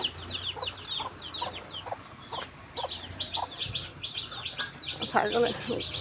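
Hens and chicks cluck and peep continuously in a rural yard, with rapid high chirps from the chicks over softer hen clucks and a brief voice near the end.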